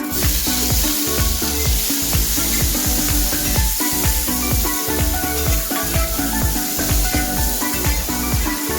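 Tomato frying in onion masala for stuffed brinjal, a loud, close, continuous sizzle and hiss broken by repeated scraping stirs in an uneven rhythm.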